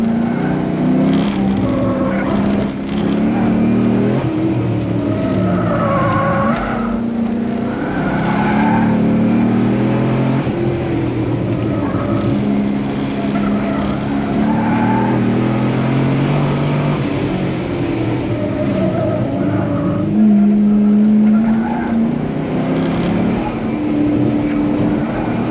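A car is driven fast on time attack laps with grip driving, its engine droning loudly and continuously as the revs rise and fall through the gears; tire noise and wind fill the cabin throughout.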